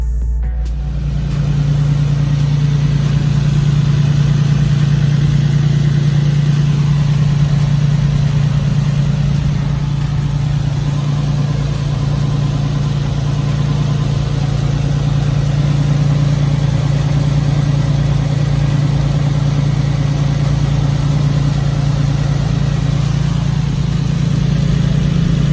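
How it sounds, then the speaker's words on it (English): A Nissan 350Z with some oil burning off its engine idles steadily, a loud, constant low hum with an even tone that runs on without a break and no voices. "I'm gonna let the car run, see if I can burn off any of that excess oil."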